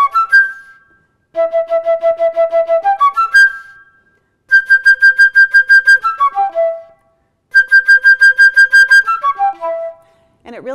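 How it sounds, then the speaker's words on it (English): A solo from Beethoven's Eroica played with rapid double tonguing comes as three bursts of quick, evenly repeated bright notes, with each phrase ending in a few falling sustained tones. Short silences separate the phrases. "So that same solo that I did in the Beethoven Eroica might sound like this."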